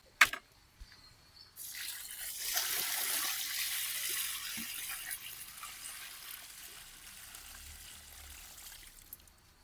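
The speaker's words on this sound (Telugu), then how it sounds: "ఇప్పుడు బకెట్ నింపుకొని బకెట్ నీళ్ళు పోద్దాం" Water tipped from a bucket onto a lemon tree in a home garden, a soft splash that swells into a steady pour for several seconds before trickling off, faint and close with no talk.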